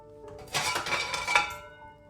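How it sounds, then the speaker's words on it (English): Dishes, cutlery and pots clatter and clink as they tumble off a kitchen counter, a close burst of crashing lasting about a second before settling, with no talk over it. "all the dishes on the counter come tumbling down"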